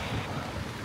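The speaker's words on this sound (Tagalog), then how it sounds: "grabe yung hangin guys, tinatanga yung payong" Strong gusts buffet the microphone on a Busan street near a coffee shop and ticket station, a dense, roaring rush of wind filling the short moment with no talk.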